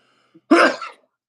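A single sharp, explosive burst from a nearby person, a short sneeze-like blast after a faint intake of breath, then silence.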